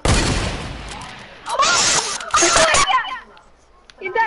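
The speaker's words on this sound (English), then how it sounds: "I'm shooting straight up." Gunshots from a player in a multiplayer shooter video game, a few sharp cracks mixed with game effects while friends talk loudly over them.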